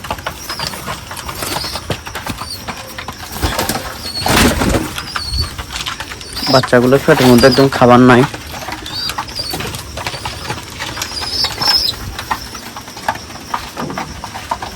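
Pigeons, among them small hungry chicks, break into a couple of brief wing-flapping flurries nearby, with soft cooing and scuffling around them and a person talking intermittently.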